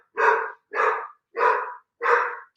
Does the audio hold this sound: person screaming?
no